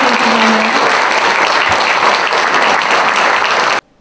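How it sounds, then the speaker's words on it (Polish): Audience applause at a culture award ceremony in Biłgoraj honouring a folk group and a culture patron: dense, steady clapping throughout that cuts off abruptly near the end. "Wielkie brawa dla Państwa"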